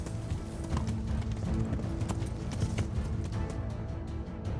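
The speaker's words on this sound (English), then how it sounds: "O cavalo pula? Não quer pular." Horse hooves in the video game Kingdom Come: Deliverance, a rapid, steady clip-clop of galloping beats running through the whole stretch, fairly close and prominent.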